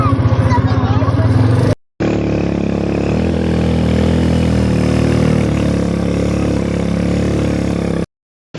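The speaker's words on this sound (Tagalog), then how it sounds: "At ayun naman dumaan na yung motor" A motorcycle carrying a family rides past on a provincial road in Samar, its steady mid-pitched engine drone holding close for several seconds while people talk nearby.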